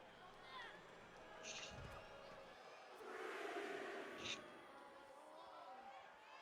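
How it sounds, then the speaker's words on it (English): A wrestling crowd at an independent pro-wrestling show rumbles with displeasure, a far-off mass of voices that swells in the middle and stays under close commentary talk. "Crowd not happy at all."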